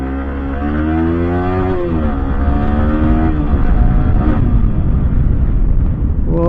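A Yamaha R15 V4 motorcycle revs loudly and close by, its engine note sweeping up and down across several throttle blips in a continuous, dense roar with no talk over it.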